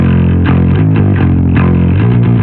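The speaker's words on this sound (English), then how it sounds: "let's make it more aggressive with this Cubase multiband distortion" Bass guitar driven through a multiband distortion plugin in Cubase for an aggressive rock tone: loud, gritty notes played in a choppy rhythm with several clear note changes, thick harmonic buzz, no voices.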